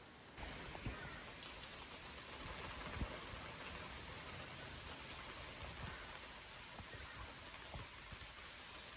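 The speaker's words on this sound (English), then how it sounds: "I'm going to make the most of this rain" Soft, steady rainfall from Cyclone Alfred patters down continuously in a front garden, with occasional louder drips landing nearby and a faint high hiss in the background.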